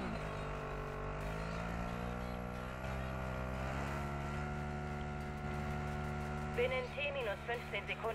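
A quad bike's engine accelerates in Call of Duty Modern Warfare 3 Zombies, with a steady, rising motor drone running throughout and a voice talking over it.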